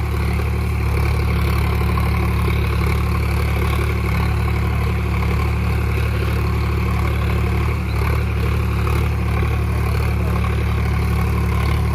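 Sonalika tractor engine running steadily through a cultivator mileage test, a loud, continuous low drone with a faint clatter and no break in its pace from start to finish.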